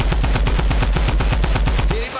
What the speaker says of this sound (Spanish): Sigue disparando, sigue disparando, sigue disparando